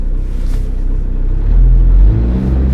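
Coltrax mini excavator diesel engine running with a loud, deep rumbling idle that rises in a revving surge partway through before settling back slightly.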